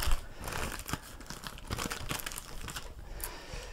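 Paper is crumpled by hand, giving a steady stream of close, crackling crinkles and small tearing-like rustles for several seconds.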